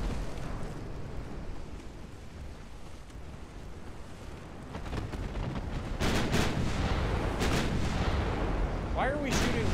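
Naval guns fire in the warship game Ultimate Admiral Dreadnoughts, heavy booming blasts over a constant rumble of sea and wind, growing louder and denser toward the end, with someone talking over it.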